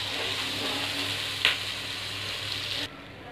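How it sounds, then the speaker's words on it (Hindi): Tomatoes fry in hot oil in a pan, giving a steady soft sizzle throughout with one brief clatter near the middle, before the sound suddenly drops lower near the end. "अब हम इनको फ्राई होने देंगे ताकि थोड़े थोड़े टमाटर गल जाएं।"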